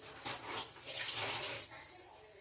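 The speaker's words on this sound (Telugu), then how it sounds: "నేను చేయి కడుక్కొని వచ్చేస్తున్నా." Hands being washed under a running tap, with a steady close rush of water that surges and splashes as the hands move through the stream over about two seconds.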